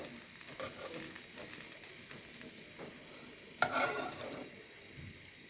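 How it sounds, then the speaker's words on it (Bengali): Chopped onion and chili fry softly in a pan with a low, steady sizzle. Occasional stirring scrapes cut through, and one brief sharper clatter stands out. "পেঁয়াজ কুচি মরিচ কুচি ভেজে নিচ্ছি বেগুন চাকে দেওয়ার জন্য।"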